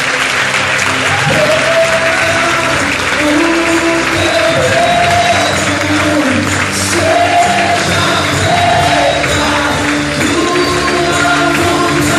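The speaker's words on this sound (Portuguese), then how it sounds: "dê um forte aplauso ao Senhor." A church congregation bursts into loud, steady applause during a sermon, with scattered shouts and raised voices in the crowd and music playing underneath throughout.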